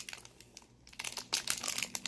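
Plastic toy packaging bag from a Shopkins Happy Places set torn open with teeth: close, irregular crinkling and ripping bursts that start soft, pause briefly, then grow louder and denser toward the end, with no talking.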